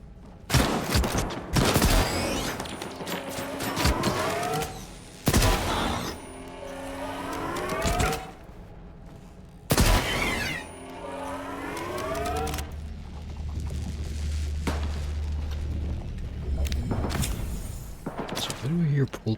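Gunfire in a STALKER 2 shootout: several bursts of loud, close shots with ringing tails, spread across the span in clusters, with a low rumbling drone filling the gaps.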